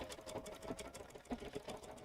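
Bernina sewing machine with a #7 fringe foot stitching steadily, a rapid even needle rhythm with small mechanical clicks, close and moderately quiet with no talking.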